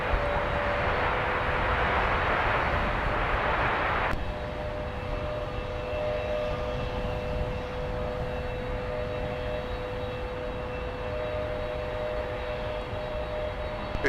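An airplane powers up for takeoff at Minneapolis–Saint Paul airport, a broad engine roar that cuts to a lower steady drone with faint tonal whine, heard from a distance without talk.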